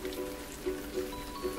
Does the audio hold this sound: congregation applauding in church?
no